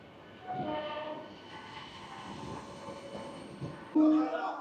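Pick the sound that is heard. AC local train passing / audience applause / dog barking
AC local train passing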